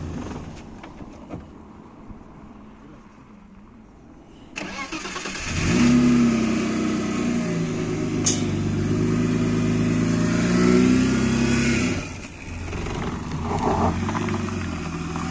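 A dad's bus engine starts up, idles, then revs steadily as it drives out, a loud, sustained mid-pitched drone close by that fades after about twelve seconds.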